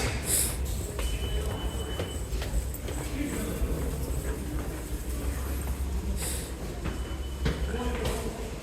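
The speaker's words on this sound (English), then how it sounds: "Here's a Q train here" A New York City subway Q train in a station gives a steady loud rumble with rattling and squealing wheel noise throughout, with occasional sharp clanks and hisses.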